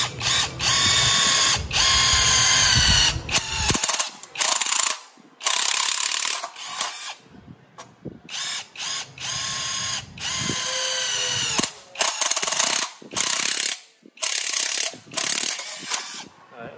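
An electric drill boring into iron, loud whining bursts of motor and bit grinding that start and stop repeatedly in short pulses with quiet gaps between, close up.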